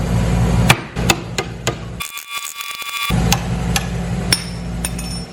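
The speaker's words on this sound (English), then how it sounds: "Chisel it out? Yeah. Like break it." Hammer striking a chisel to break out a rear wheel bearing on a Nissan 350Z, a series of sharp metallic blows close up over steady background machinery hum, with a brief pause midway.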